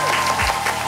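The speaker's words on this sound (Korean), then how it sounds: "이번에 저희가 박수칠 준비하시고" A brief burst of clapping from a small group celebrating reaching 100,000 subscribers at a company marketing team's staff dinner, steady and close for about a second with no talk over it.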